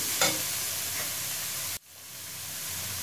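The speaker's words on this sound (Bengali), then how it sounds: "পেঁয়াজ ক্যাপসিকাম দিয়ে 3-4 মিনিট মতো ভেজে নিয়েছি" Onion and capsicum frying in a pan give a steady, close sizzling hiss with light stirring scrapes, which cuts off abruptly partway through and then resumes more quietly.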